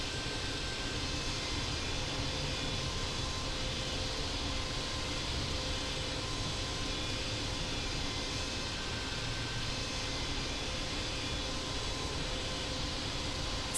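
Boeing 747 airliner taxiing in the Infinite Flight simulator game on a route from Melbourne to Sydney, a steady, even engine roar and broadband hiss that holds constant throughout with no talk.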